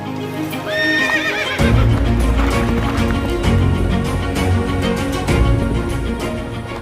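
Horses of the President's Bodyguard at Rashtrapati Bhavan neigh in a high whinny over steady, dense hoof clopping, loud and close, with several animals moving together.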